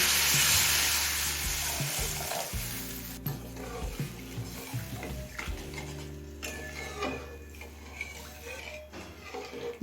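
Fried spice masala of tomato, ginger and garlic sizzles loudly as hot water goes in, the crackle surging at first, then settling into choppy bubbling with spoon clinks and a few sharp knocks.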